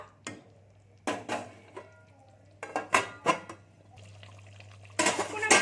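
Paneer and peas being stirred in a pan, irregular clinks and scrapes of a spoon against metal in short bursts separated by pauses, over a low steady hum.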